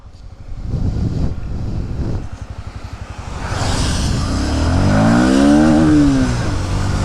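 A Bajaj Pulsar NS160 motorcycle engine revs toward high rpm with a throbbing, close-up note. Wind noise rushes past as the pitch climbs and wavers, rising in a steady build. No voices are heard.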